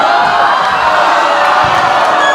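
A large arena crowd at a wrestling rumble event roars in a dense, loud wash of cheering, shouting and booing that stays sustained throughout without a clear break.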